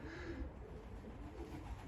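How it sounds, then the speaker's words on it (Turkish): Soft, low cooing of pigeons, a few murmuring calls close by against a quiet background. "Kuşlar bunlar arkadaşlar."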